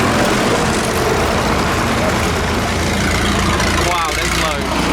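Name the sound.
old tractor engine idling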